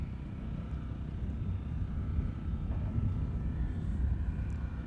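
A Cathay Cargo Boeing 747 takes off at Amsterdam Schiphol. Its steady, distant roar of jet engines swells slightly, with wind buffeting the microphone throughout.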